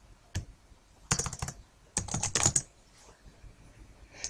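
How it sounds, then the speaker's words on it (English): Bursts of quick typing on a computer keyboard, a few isolated keystrokes followed by two dense clusters of clicks and a final tap, close and clear against a quiet room. "if I can type"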